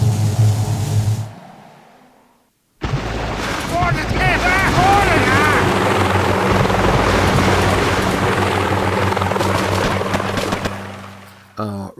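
Attack helicopters in a chopper rush in the video game Boom Beach drone and whir loudly and continuously, with battle noise and brief tonal effects layered over the thrum.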